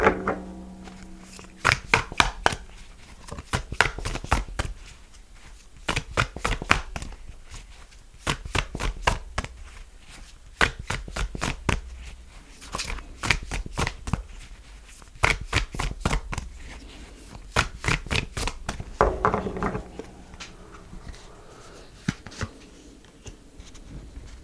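A deck of cards is shuffled again and again at close range, with bursts of rapid riffling flutter separated by short pauses and soft taps as the cards are squared.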